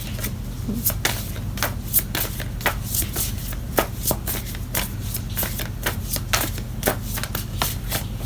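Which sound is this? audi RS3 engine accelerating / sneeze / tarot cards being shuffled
tarot cards being shuffled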